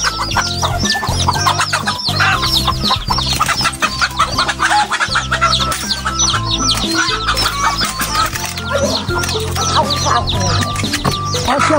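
A free-range hen and her chicks on a hillside cluck loudly and continuously, with rapid overlapping chirps and clucks close by throughout.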